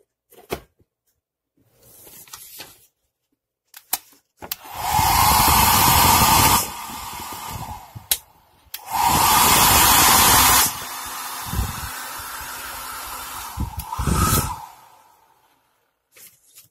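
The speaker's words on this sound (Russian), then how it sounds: "Фен работает, теплый воздух идет." A Masterline SH-P1 hair dryer, just repaired, switches on and blows warm air with a loud, steady whoosh in two long bursts, separated by brief clicks and handling noises, close by.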